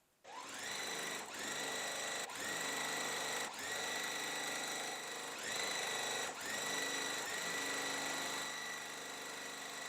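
Sewing machine stitching quilt block pieces together, a steady whirring motor running in several bursts separated by brief pauses, close and fairly quiet with no talking.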